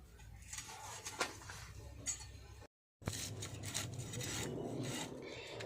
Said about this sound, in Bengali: আর একটা পাশও আঁশ ছাড়িয়ে নিচ্ছি